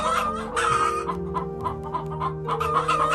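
Several chickens cluck in an agitated flurry, with overlapping, insistent squawks close by in a short, busy burst.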